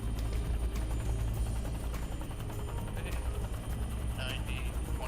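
A helicopter flying over Alaskan waters while dropping biodegradable dye pellets makes a loud, steady rotor and engine drone filling the whole stretch, with a voice talking over it.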